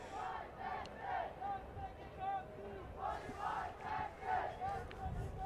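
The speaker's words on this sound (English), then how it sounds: "Call and response from the crowd." Distant cricket crowd at a Leicestershire v India match chanting in call and response, rhythmic waves of many voices rising and falling across the ground.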